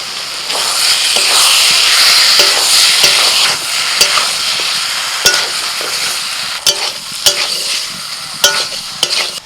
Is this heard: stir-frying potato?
yes